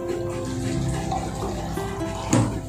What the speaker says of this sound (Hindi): आधा ग्लास पानी डाल के मैं